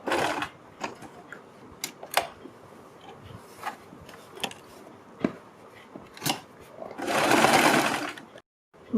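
An electric sewing machine stitches around a kurti neckline reinforced with buckram, with short mechanical bursts and ticks followed by a longer, louder whirring run near the end, close up.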